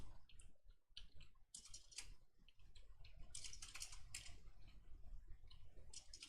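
A computer keyboard being typed on, with rapid bursts of close clicking and clacking keys in irregular clusters, fairly faint overall.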